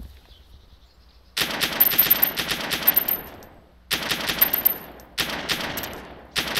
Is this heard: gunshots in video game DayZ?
yes